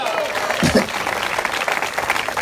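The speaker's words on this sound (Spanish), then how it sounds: "el aplauso de alabanza para el Señor," Crowd applause of praise for the Lord at an open-air preaching in Santiago's Plaza de Armas, Chile, scattered outdoor clapping mixed with voices and crowd murmur, with a brief louder burst near the middle.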